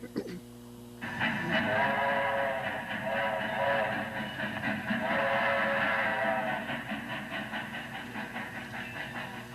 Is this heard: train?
yes